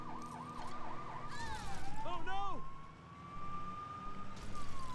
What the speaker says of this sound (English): Oh, I turn the siren off.